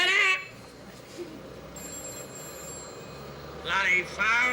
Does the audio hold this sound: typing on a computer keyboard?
no